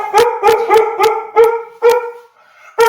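A dog barking nearby in a rapid series of loud, harmonic barks, with a short pause before one more bark, heard alone without talk.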